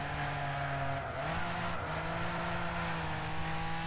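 A race car drifting in the Wreckfest video game, its engine droning steadily with a sustained tire skid and a brief pitch dip midway, loud and continuous with no talk.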